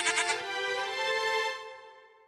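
A goat lets out one long, wavering bleat in a comedy TV scene, close and clear, fading out at the end.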